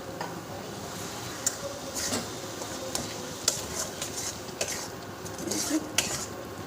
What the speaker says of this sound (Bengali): আর ছানাটা দিয়ে একটু ভালো করে নাড়বো।